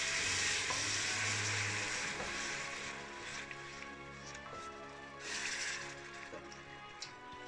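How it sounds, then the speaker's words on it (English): Milk is poured into melted butter and flour for a bechamel base. A soft sizzle and bubbling under stirring sounds fade gradually, then swell again, quiet and close. "And now add milk."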